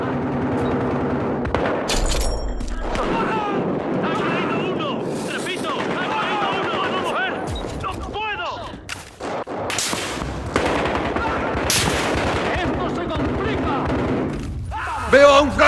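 Gunfire in Battlefield Hardline, a police-versus-criminals shooter, with sustained shots and bursts running throughout beneath frequent shouted voices and radio chatter.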